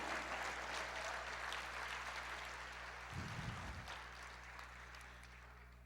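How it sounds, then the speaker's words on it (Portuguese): A church congregation claps together in sustained applause throughout a worship service, moderately loud and even, with a brief low rumble midway and a sharp knock at the very end. "Aplauda mais"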